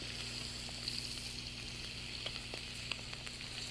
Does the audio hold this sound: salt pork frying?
yes